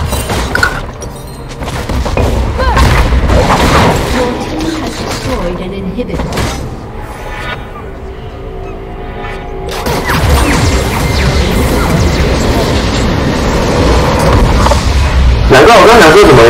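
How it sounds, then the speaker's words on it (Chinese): Explosion during a League of Legends match: loud crashing, smashing bursts with a heavy thud over a dense, continuous wash of game sound, with people talking throughout. "家里爆炸了"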